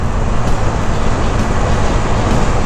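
Steady loud road traffic from a moving motorbike on a Thai road as a sedan car passes, a continuous broad rush with no clear pass-by peak.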